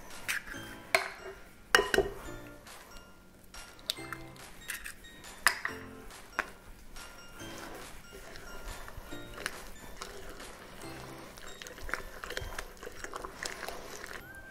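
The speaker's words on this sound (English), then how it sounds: "now to this, I'm going to add 2 large eggs" Two large eggs cracked and added to a peanut butter cookie dough mixture in a bowl: a series of close clinks and taps against the bowl, sharp near knocks early on, then softer scraping and clatter continuing throughout.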